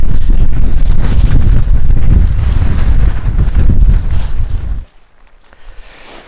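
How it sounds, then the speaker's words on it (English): Strong wind roars and buffets across a Welsh mountainside, loud and gusty against the microphone for several seconds before suddenly dropping to a faint breeze. "I can't believe it's gone really windy now."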